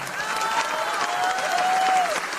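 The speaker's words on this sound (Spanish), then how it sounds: "Un aplauso a los medios de información" A crowd at a MORENA pre-campaign rally in Xiutetelco, Puebla breaks into dense, steady applause that fills the whole stretch, with a faint voice sounding briefly above the clapping.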